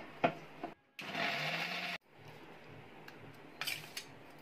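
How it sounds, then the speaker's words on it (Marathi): A mixer grinder grinds coriander leaves, grated coconut and ginger into a fine paste for amti. It gives one loud, steady whirring burst of about a second, framed by softer clatter and handling noises. "मिक्सरला चांगलं बारीक वाटून."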